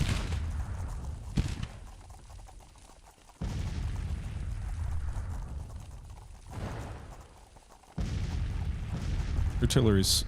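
Heavy artillery booms from a Civil War battle in a strategy game, several deep rumbling blasts spaced a few seconds apart, each swelling and slowly fading, with a few lighter pops near the end.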